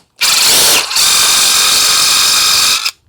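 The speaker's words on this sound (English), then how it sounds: "what I'm going to do now is I'm going to drill this bit into each hole about 3/4 of an inch" A drill bit boring into the wooden hinge holes of a door, one loud, close whine that runs for nearly three seconds with a brief dip partway through before stopping.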